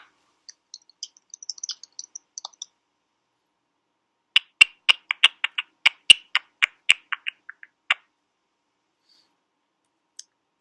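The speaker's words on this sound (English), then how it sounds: "if you're still typing there" Keys tapped on a computer keyboard, a few light scattered clicks followed by a burst of crisp, close, irregular keystrokes in quiet surroundings.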